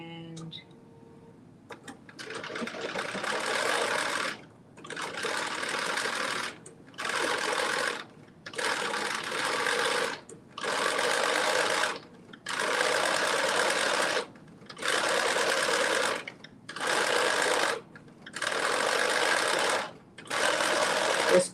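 A sewing machine top stitches a sleeve hem in repeated bursts, roughly a dozen evenly spaced runs of steady whirring separated by short silent pauses as the fabric is turned.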